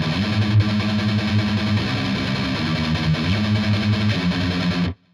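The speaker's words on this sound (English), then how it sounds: "it's all on the 6th string, palm muted, and you're just going to tremolo pick" Distorted electric guitar plays fast palm-muted tremolo picking on the low sixth string, a steady chugging pattern with pitch shifts, loud and continuous until it cuts off abruptly near the end.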